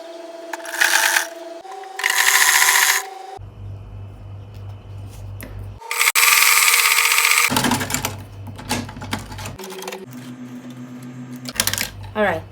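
A sewing machine stitches the lining of an Ankara gown bodice with a quarter-inch seam, running in short mechanical bursts of rapid clatter that alternate with someone talking.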